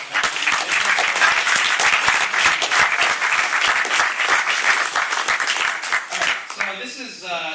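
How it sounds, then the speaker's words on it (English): A full audience applauds a group of poetry club members at a college spoken word event, the dense clapping loud and steady for about six seconds before thinning out into scattered claps. "can everybody give them a round of applause?"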